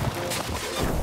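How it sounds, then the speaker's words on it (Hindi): An explosion in the video game Poppy Playtime Chapter 3, a short, dense burst of crackling blast noise with a low rumble underneath, loud and brief. "एक जबरदस्त धमाका।"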